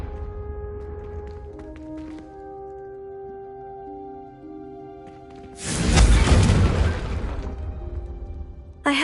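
A Confringo fire spell in the Hogwarts Legacy video game erupts as one loud, sustained fiery blast that roars for a few seconds over a quieter ambient background, then tails off.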